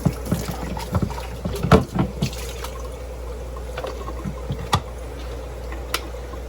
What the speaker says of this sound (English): Give this a rinse.